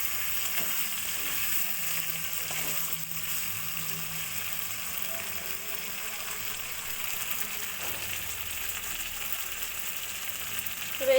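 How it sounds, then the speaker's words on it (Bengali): Paneer curry masala with capsicum and tomato sautéing in a pan, producing a steady close sizzle with light stirring, no voices. "এবার ভালো করে কষিয়ে নেব।"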